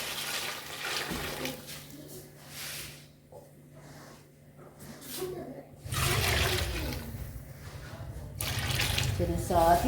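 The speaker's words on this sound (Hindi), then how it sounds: "अब इसमें यखनी जाएगी। अब यखनी शामिल करें।" Yakhni broth pours into a pot of beef for Peshawar-style beef pulao with a steady splashing rush, loud and close, while a voice talks over it.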